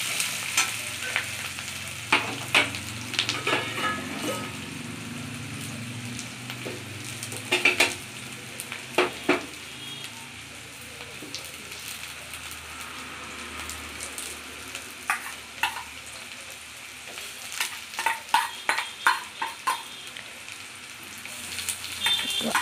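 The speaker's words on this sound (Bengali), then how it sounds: "পেঁয়াজ রসুনের কুচিগুলো একটু ভালো করে তেলের উপর নাড়াচাড়া করে ভেজে নিলাম।" Chopped onion and garlic fry in hot oil with a steady sizzle while a utensil stirs and scrapes the pan, giving sharp intermittent clicks and knocks close by and no talking.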